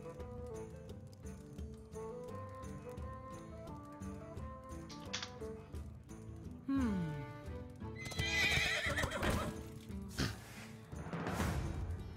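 A horse neighs loudly in a rising and falling whinny as the Armored War Horse card is played in Hearthstone, amid layered game music and chimes, followed by bright sparkling effect sounds.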